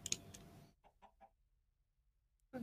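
A chicken in a video game lets out a short run of clucks, then a burst of three quick clucks, then a pause and a final squawk. The sounds are fairly faint against a quiet background.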